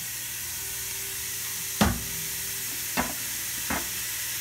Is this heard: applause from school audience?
no